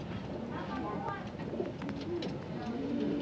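Breeding pigeons coo softly and repeatedly in a loft, several low, rolling calls overlapping close by, while someone talks over them.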